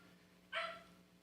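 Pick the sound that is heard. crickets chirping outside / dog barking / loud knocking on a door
dog barking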